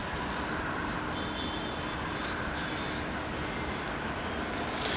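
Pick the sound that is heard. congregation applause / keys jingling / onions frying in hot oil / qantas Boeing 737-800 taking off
qantas Boeing 737-800 taking off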